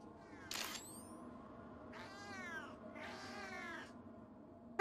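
A cat meowing in the horror video game DreadOut, three drawn-out cries with the first short and the last two longer and wavering, faint and clear against a quiet background.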